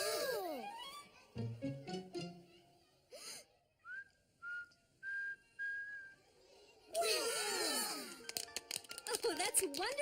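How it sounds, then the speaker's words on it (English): A young cartoon girl whistles a few short, clear notes in a row, faint and spaced apart, with brief vocal sounds before and a busy burst of other sounds afterward. "You learned to whistle."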